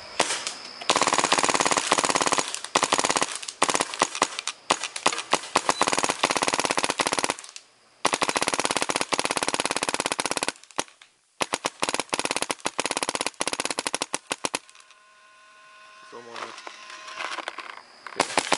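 WDP Angel A1 paintball marker firing in ramping mode outdoors, rapid bursts of shots in long, fast strings broken by short pauses, loud and close, with people talking at times.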